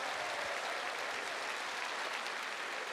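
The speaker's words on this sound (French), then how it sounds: "Et des applaudissements, ben oui!" Audience applause at a French-language show, a steady dense wash of many hands clapping throughout, close and loud with no talk over it.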